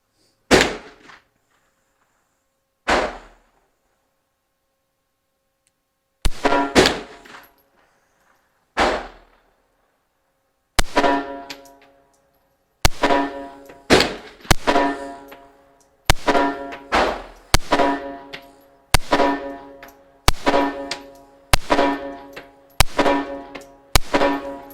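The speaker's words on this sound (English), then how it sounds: "Let's go ahead and remove the safety, and we'll fire some shots and see how it functions." EAA Girsan MC 14T tip-up .380 ACP pistol firing Winchester 95-grain target ammo at a range: a few widely spaced sharp gunshots at first, then a quicker, steady string of loud reports with short echoing tails.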